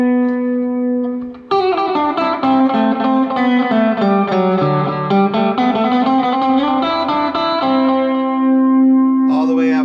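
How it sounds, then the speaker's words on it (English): Electric guitar played through a rack of effects units, ringing notes and chords thick with echo, distortion and reverb, sustained loudly for most of the stretch after a brief opening tone, then settling into a held note. "this is what we call the rack, where we keep the effects, from all the way from fairly normal everyday effects like echo"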